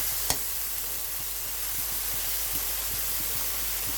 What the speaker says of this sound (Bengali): এভাবে একটু ভাজা ভাজা করে নিচ্ছি